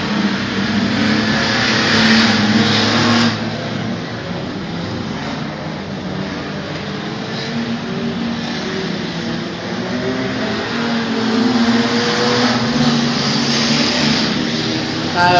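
Race cars driving on a track: steady, loud engine drone with rising and falling revs as cars circle, filling the whole stretch with a continuous roar.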